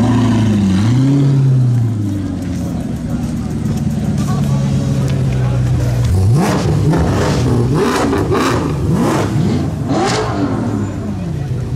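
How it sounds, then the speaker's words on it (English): A loud car engine at a Porsche car meet idles, then revs repeatedly in sharp bursts, each rise and fall of pitch roaring close by, with voices talking underneath. "So this is a loud car."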